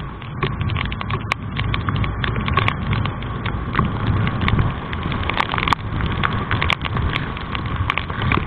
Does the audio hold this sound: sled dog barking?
no